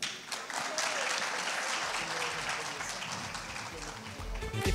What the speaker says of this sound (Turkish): Alkışlarla yılın en iyi erkek dizi oyuncusu Kerem Alışık'ı yerine uğurluyoruz